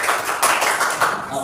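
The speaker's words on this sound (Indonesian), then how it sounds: "Kasih tepuk tangan untuk kelompok 2." A class claps for group 2 in a school lesson, a short burst of scattered hand claps with some voices mixed in.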